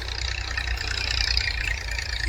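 A tractor engine runs steadily out on farmland among castor plants, a low continuous rumble with a hum of mid-range noise over it, even and unbroken from start to end.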